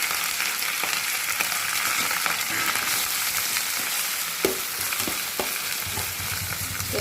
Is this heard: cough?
no